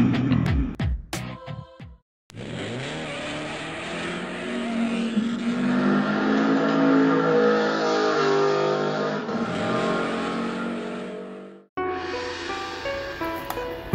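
Electric 1/32 scale slot cars in a tournament race give a steady high whining motor drone that rises at the start and holds for several seconds, then cuts out; brief clattering sounds before and after.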